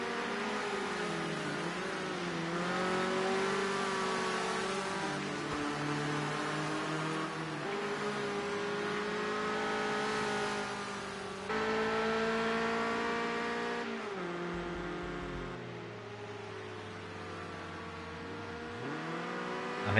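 Race cars in Project Cars 2 roar continuously for the whole stretch, engines revving up and down through gear changes with a steady layered whine and brief dips, close and loud, with no voices.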